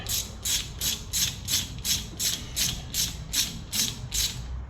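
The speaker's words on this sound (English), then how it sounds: "So don't take this down with a gun. Just use a ratchet and get it." A hand ratchet clicks in about a dozen evenly spaced strokes while lightly tightening a bolt on the front wheel hub assembly of a 2004 Ford F150, close and steady with no talking.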